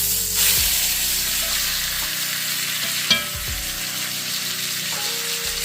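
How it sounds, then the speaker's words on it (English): Roast beef searing in a hot pan, a steady close sizzle and frying hiss that runs without pause, with a brief clatter of utensil or meat being moved midway. "We just want to sear the bottom and the top real good."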